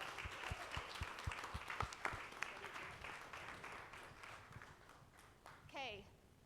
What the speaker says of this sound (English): Everyone, a round of applause for Andrew.